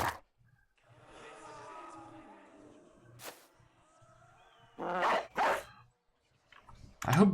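Dogs bark in the Battle Brothers video game, with two quick barks close together midway and another at the very end, over quiet, sparse background sounds.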